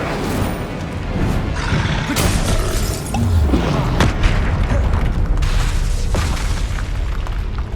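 An Incendio fire spell cast in Hogwarts Legacy, heard as loud, sustained booming and crackling bursts of fiery game effects that roll on without a break, thick and dense throughout.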